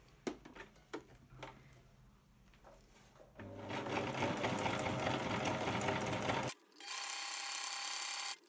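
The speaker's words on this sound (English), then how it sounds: "just sew, literally sew right round the edge of the Velcro" A sewing machine stitches fabric around the edge of a strip of Velcro for a cot bumper, starting with a few short clicks before a loud steady mechanical whir that pauses briefly and then runs on.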